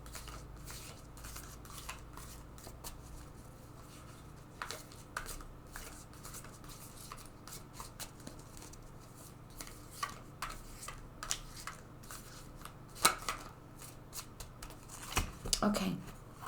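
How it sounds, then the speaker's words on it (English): Tarot cards shuffled repeatedly by hand, a soft steady riffling and rustling that runs throughout, with sharper slaps and flicks near the end as the deck is handled. "So I'm going to go ahead and shuffle this deck several times."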